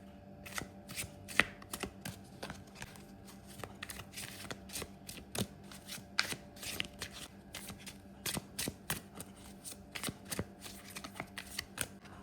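Tarot cards are shuffled and drawn by hand, a quiet, close run of crisp riffling snaps and flicks, with repeated sharp clicks spread irregularly across the stretch.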